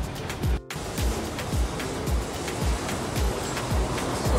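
A car gets a wash with a water spray during servicing, making a steady hissing rush with rhythmic pulsing surges that repeat about every half second.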